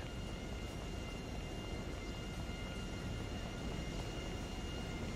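Jet aircraft engine in GTA 5 roleplay, a steady broadband roar and whine held at constant loudness, moderately distant, with no talking.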